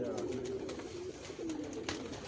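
Desi pigeons cooing on a rooftop, soft repeated low coos close by over a steady outdoor background, with a faint voice at moments.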